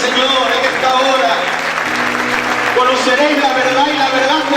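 Loud clapping from a church congregation continues steadily over music, with voices mixed into the dense applause.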